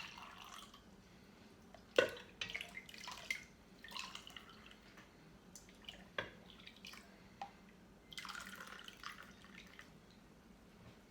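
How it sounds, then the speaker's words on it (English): Homemade apple cider is ladled from a pot into a cup, making soft, irregular splashes and drips with a few sharper clinks of the ladle against the pot, fairly quiet and close. "I'm just gonna scoop some apple cider out into the cup."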